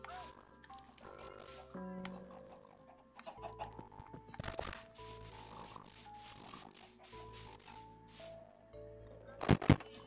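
Chickens cluck in the video game Minecraft during a block hunt match, with scattered short clucks mixed among other game sound effects and a louder burst near the end.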